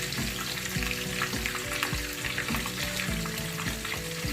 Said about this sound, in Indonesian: Teman-teman ada tips nggak gimana caranya goreng ikan biar nggak meletup-letup?